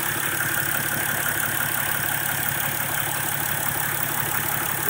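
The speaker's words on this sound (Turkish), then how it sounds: "Egzoz takıldıktan sonraki sesi dinletelim." A Mercedes ML300 CDI V6 diesel engine with exhaust fitted idles steadily and loudly nearby, a constant rumbling drone with a faint rhythmic knock running through it, with no other sounds.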